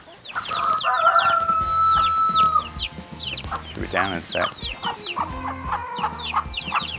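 Chickens and a rooster on a British farm cluck and crow continuously nearby, a rich mix of overlapping calls with a long crowing note early on, while a person briefly speaks underneath.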